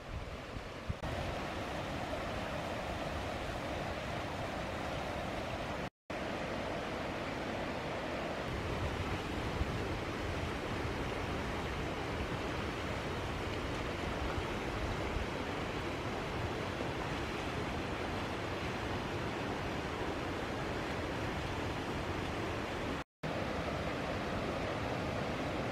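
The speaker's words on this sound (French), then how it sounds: "il y a un filet d'eau libre qui coule de l'autre côté" Open water flows in a steady, broadband rushing wash that continues unbroken for the whole stretch, loud and close, with no voices heard.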